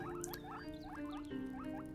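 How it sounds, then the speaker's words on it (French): Repeated short squeaky guinea pig calls from the video game Spellcaster University, rising chirps in quick succession over a steady synthetic game background hum. "Ça fait le même bruit que les cochons d'Inde"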